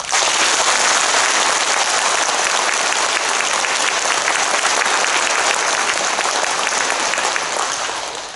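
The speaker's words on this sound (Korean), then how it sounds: "그런 의미로 큰 박수." Loud, sustained applause from an audience at a school entrance ceremony, dense clapping holding steady for several seconds before easing slightly at the end, with no talk over it.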